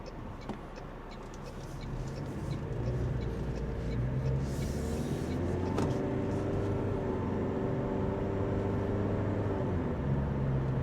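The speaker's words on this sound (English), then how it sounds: "So you will be able to hear that 2-liter naturally aspirated 4-cylinder" A 2026 Toyota Prius hybrid's 2-liter naturally aspirated four-cylinder engine is heard from inside the cabin, a low steady hum that rises in pitch and swells slightly as it builds, with some induction noise and road rumble.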